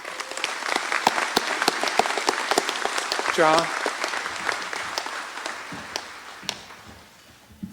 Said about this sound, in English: I would like for you to give him a round of applause for his